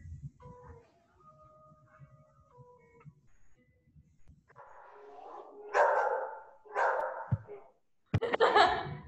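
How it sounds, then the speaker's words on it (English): A dog barks several times during an indoor aerial fitness class, loud sharp bursts over quieter background sounds and faint voices. "Whose dog?"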